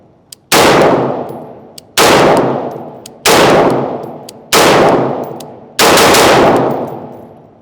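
Five loud, sharp rifle shots ring out one at a time at roughly one-second intervals, each followed by a short decaying echo, during a combat reload drill with magazine change and safety manipulation.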